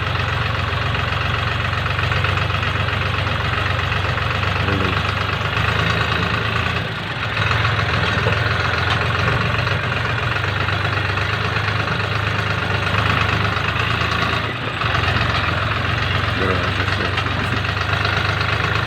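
A Chinese-made tractor engine runs steadily nearby with a rough, knocking diesel chug, holding an even idle throughout with a couple of brief dips.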